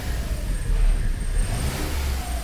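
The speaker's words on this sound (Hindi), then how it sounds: "ये देखिए रेस करके हम दिखा रहे हैं" A Skoda Fabia engine revs with a low, rough rumble, rising and falling slightly, heard up close without talk.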